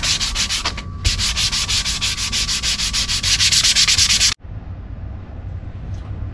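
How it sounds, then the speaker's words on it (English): Hand sanding of a Les Paul guitar body's wood: steady rapid back-and-forth rasping strokes, loud and close, running continuously for about four seconds before stopping abruptly, leaving quiet room tone. "Just got finished sanding."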